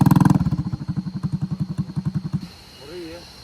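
A motorcycle on a damaged road near Bukik Gandum with a rapid thumping engine pulse that is loud and close at first, then drops off sharply to a low background rumble, a voice briefly speaking near the end.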